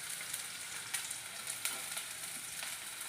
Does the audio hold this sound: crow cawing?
no